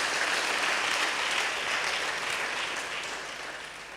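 A church congregation claps in a dense, sustained round of applause that fills the room, then eases slightly and fades toward the end.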